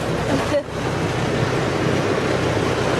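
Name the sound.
tractor driving past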